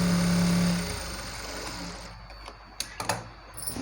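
A sewing machine top-stitching a band on a can-can lehenga, a steady mechanical whir that runs loud at first, eases off, then gives way to a few short clicks and bursts.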